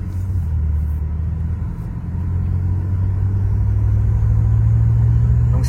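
BMW with its catalytic converters removed, the engine rumbling low and steady at idle and swelling slightly toward the end, close and loud with no talking.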